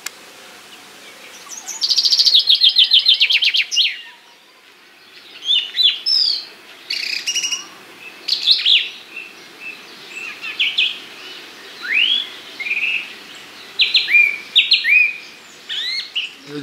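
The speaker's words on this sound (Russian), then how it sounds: "Птичка поет классно." A songbird sings outdoors at a Russian dacha in summer, loud and close, repeating bright chirping phrases and trills in quick bursts with brief pauses between them.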